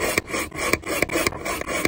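Pocket knife drawn across the ceramic rod of a pocket sharpener, a close, loud series of about seven rasping strokes in quick regular rhythm, no voices.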